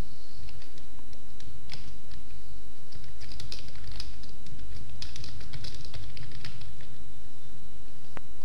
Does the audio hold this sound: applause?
no